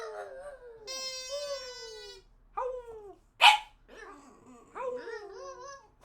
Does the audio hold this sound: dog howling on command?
yes